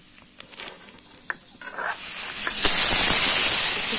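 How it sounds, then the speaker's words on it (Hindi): Potatoes drop into hot oil, and after a few small clinks the sound swells into a loud, steady hiss of frying that keeps building for the rest of the clip, close by. "इसी तेल में डालकर हम आलूओं को भी फ्राई कर लेंगे"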